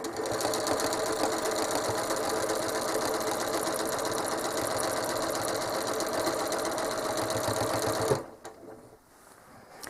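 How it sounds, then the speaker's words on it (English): A sewing machine runs steadily through a quilting spiral, its loud, even needle chatter holding for about eight seconds before stopping abruptly and leaving quiet. "Now I'll finish stitching around that spiral to go up to join the next one."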